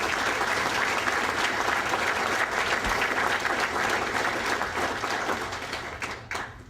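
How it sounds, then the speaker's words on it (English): Audience applause for sponsors at a distinguished service awards ceremony: sustained, loud clapping from a large crowd filling the room, steady for several seconds before thinning out at the end. "I'd like you to give them a big round of applause."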